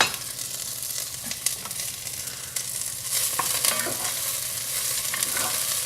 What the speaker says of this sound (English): once these onions have sauteed up and the hamburger is browned a little bit